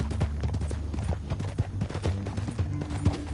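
Horse hooves clip-clop steadily in Red Dead Redemption 2, a brisk rhythmic trot of close, distinct hoofbeats with a low rumbling bed underneath and no talking.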